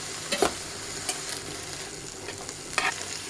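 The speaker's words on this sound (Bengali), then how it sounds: "পেঁয়াজ কলিটা ভালো করে ভেজে নেব। দিয়ে দেব দুটো কাঁচামরিচ।" Onion stalks and green chillies sizzle steadily in a hot pan, with a few scraping stirs and clinks of a spatula.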